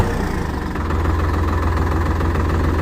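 A Sonalika DI-745 III Sikander tractor engine idles close by, a steady low diesel throb with a faint knocking rhythm, heard alone.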